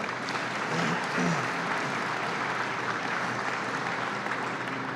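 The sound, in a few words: applause from the audience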